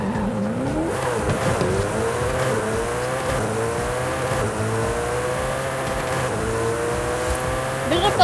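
Koenigsegg Jesko hypercar in Forza Horizon 5, engine revving steadily and climbing through gears with rising harmonic sweeps, loud and continuous for the whole stretch, with faint tire noise underneath.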